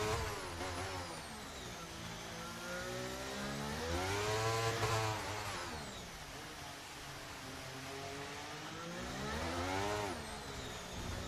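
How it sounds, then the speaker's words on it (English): Williams Formula 1 car engine in F1 23, revving hard and continuously with rising and falling pitch sweeps as it climbs and drops through the gears, loud and up close with no talk. "All revving from the engine there"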